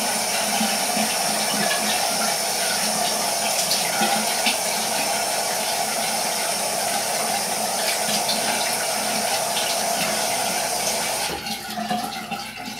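Hot water runs steadily from a bathroom tap for about eleven seconds to wet a face before shaving, a loud, continuous splashing rush that stops abruptly near the end.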